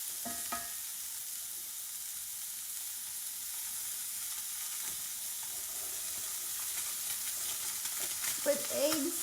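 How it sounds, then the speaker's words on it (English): An egg frying in a pan where a burger was just cooked, a steady bright sizzle and hiss continuing evenly throughout, close and unbroken with no speech. "I'm just going to throw an egg on here"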